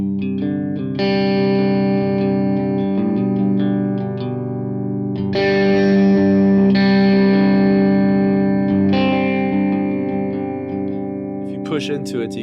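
Sustained electric guitar chords through a Line 6 Helix Stadium XL modelling an AC30 top boost channel with room reverb, ringing out in long held strums with a light overdriven edge, then trailing into a few short picked notes.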